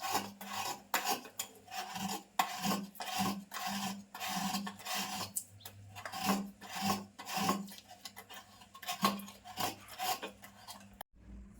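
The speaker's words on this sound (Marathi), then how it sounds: "खोबरं ना किसून झालं आहे" Fresh coconut being grated by hand, a close rhythmic rasping of repeated scraping strokes at a steady pace, quiet and uninterrupted by voices.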